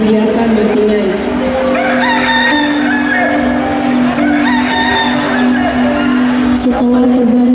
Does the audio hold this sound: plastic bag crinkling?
no